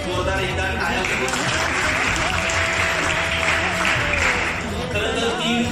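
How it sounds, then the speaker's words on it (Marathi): Loud, sustained audience applause at a school retirement ceremony for a principal, dense and continuous for several seconds, with a voice and some tonal sound running underneath. "आपल्या वतीने जोरदार एकदा टाळ्या करू"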